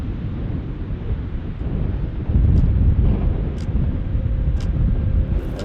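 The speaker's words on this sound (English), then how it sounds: "The wind's so bad I can't really see." Strong wind blowing outdoors during an elk hunt in Washington State, a steady loud roar buffeting the microphone and swelling partway through, with a few faint high chirps above it.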